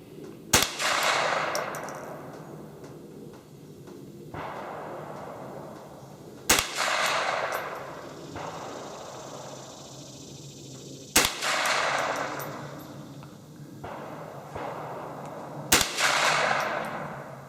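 Rifle shots fired at a shooting practice range, four sharp, loud cracks spaced several seconds apart, each followed by a brief ringing decay, with no talking in between.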